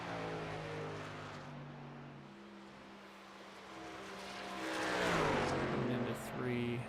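A race car in the iRacing game runs down the backstretch at Nashville Superspeedway, its engine drone rising as it passes, under steady commentary.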